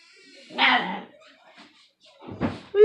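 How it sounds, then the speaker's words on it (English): A dog gives two sharp barks, the second followed by a brief yip, close and loud with quiet gaps between. "What you barking at?"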